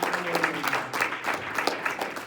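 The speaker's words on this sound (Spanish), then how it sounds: "Dale otro aplauso a Cristo, hermano." A church congregation claps for Christ during a Spanish-language service, a lively, moderately loud burst of hand claps with uneven rhythm and faint voices mixed in, lasting a couple of seconds.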